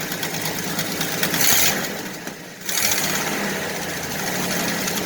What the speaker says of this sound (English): why don't you rev it up, see what it does.